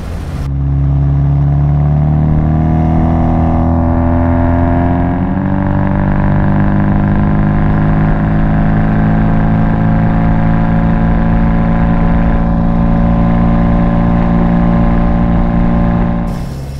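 The engine of a Sunbeam Alpine with a factory automatic gearbox runs steadily, close and loud, with a deep droning idle and gentle swells in revs throughout.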